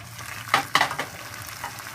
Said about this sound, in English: Okay, so that's been sauteing for about 2 to 3 minutes.